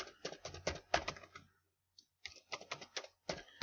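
Someone types a line of Python code on a computer keyboard, quick close key clicks in two bursts separated by a short pause.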